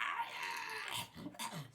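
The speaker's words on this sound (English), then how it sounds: "They are still reckless, so you can hear them howling" Monsters howl as they close in during a Dungeons & Dragons tabletop session, heard as a short, loud, strained series of canine-like growling wails with rising and falling pitch.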